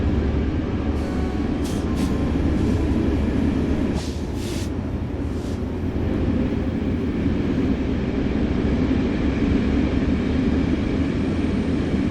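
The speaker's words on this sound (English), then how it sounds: "the train rode through the Alabama Bayou at 72 miles an hour" Steady, loud low rumble of an Amtrak train rolling along rails at 72 miles an hour, constant throughout with a few faint high clicks near the start.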